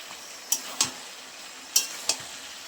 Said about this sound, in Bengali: দেখো এগুলোকে আমি ভালো করে এখন কষিয়ে নেবো সুন্দর করে।